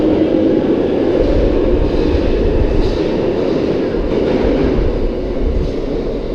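A train heading into a tunnel, heard as a steady, loud low rumble and rush of rolling stock that stays continuous and close throughout.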